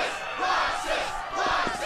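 Game crowd in Kingdom Hearts II Final Mix cheering and chanting in the Struggle arena, a dense, steady roar of many voices that swells in waves, loud and close, with no clear single talker.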